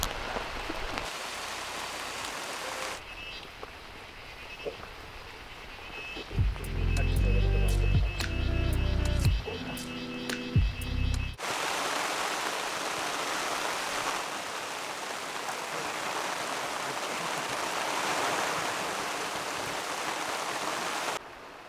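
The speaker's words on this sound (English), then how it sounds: "it's pouring cats and dogs" Heavy rain pouring outdoors in hilly, slushy terrain, a steady hiss of rainfall that is briefly interrupted by louder, closer rumbling knocks midway before the even downpour returns.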